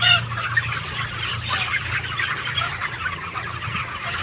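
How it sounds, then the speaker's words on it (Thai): Twenty-nine-day-old chicks cluck softly and continuously while eating feed, a busy cluster of small peeps and clucks close by over a low steady hum, with no talking. "ไก่ข้าวลูกกินอาหาร"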